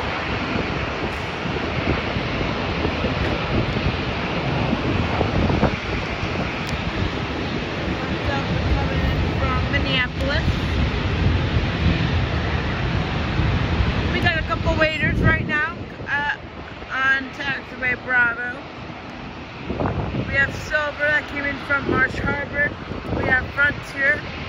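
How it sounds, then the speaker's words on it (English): A Delta Airlines plane touching down on runway 28 at Fort Lauderdale airport makes a steady broadband roar, with heavy wind buffeting the microphone. A person talks over the noise in the second half. "got Delta Airlines coming in to touch down on runway 28"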